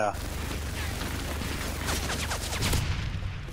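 Rapid gunfire from a sentry gun in the Modern Warfare 3 multiplayer video game, with dense bursts of game shots and explosions running throughout at steady loudness, partly under a voice.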